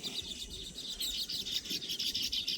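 A sparrow chirps while building its nest in a village setting, a rapid run of bright repeated tweets, close and clear over a faint outdoor background.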